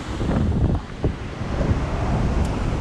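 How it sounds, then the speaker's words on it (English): Ocean waves wash in close by on the Maui coast, a steady rushing surf roar mixed with wind buffeting the microphone, with no talking. "you get some of the waves right up close"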